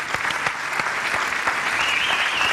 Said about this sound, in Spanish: Un aplauso para Cadín.